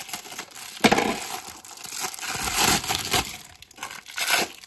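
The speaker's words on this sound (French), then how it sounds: "c'est les fameux scratchs qu'on vient coller autour" Thick velcro strips are handled and pulled apart close up, giving several rough ripping and crinkling bursts of uneven length, separated by short quieter handling noises.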